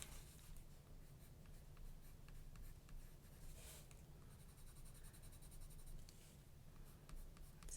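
A soft, very dark 11B graphite pencil swatches across mixed media paper in quiet, close scratchy strokes, repeated back and forth in an irregular rhythm with no talk.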